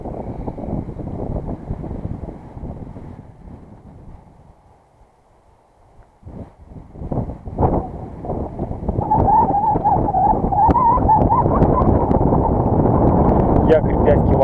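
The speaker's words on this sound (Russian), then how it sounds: "сильный ветер" Loud, blustery wind at a lake buffets the microphone in continuous rushing gusts, with a short lull before it picks up even stronger.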